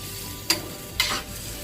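Two brief scraping stirs pass through stewed chicken feet in a pan, a short one and then a slightly longer one, close and fairly soft over a low background hum.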